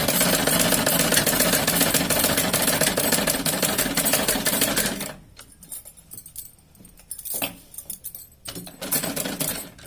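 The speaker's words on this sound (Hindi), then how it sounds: "एक और सिलाई लगा देंगे इसके ऊपर।" A sewing machine stitching Patiala salwar fabric: a loud, rapid mechanical whirring run for about five seconds, then short intermittent bursts of stitching separated by quieter gaps, close by and with no talking.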